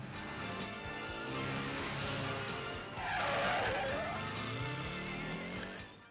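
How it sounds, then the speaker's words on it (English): Citroen 2CV skidding through a J-turn in a James Bond film car chase against a Peugeot 504, with a loud sustained tire squeal and engine noise swelling midway, close and continuous under dramatic film sound. "A J-turn is a classical precision driving trick, with a relatively low difficulty level, but this one was performed flawlessly"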